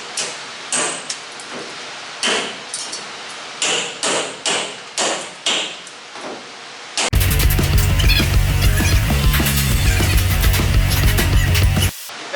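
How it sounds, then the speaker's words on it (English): Hammer driving a cold chisel to chip thick Bondo off the cab of a 1973 K10 truck, about ten sharp, loud, close strikes in an uneven rhythm, then a dense, continuous scraping rattle. "I'm going to go through here with the hammer and chisel and chunk out just as much of this Bondo as I can"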